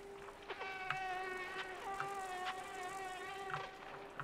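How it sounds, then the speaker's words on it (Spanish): A mosquito-like crane fly in the video game Limbo gives off a thin, wavering buzz that pulses and holds steady throughout, close and alone with no speech. "No, es una especie de mosco zancudo o algo."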